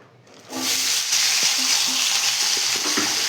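Cut potatoes hit hot mustard oil in a home kitchen pan, a sudden loud sizzle that holds steady with a few light stirring clinks and scrapes.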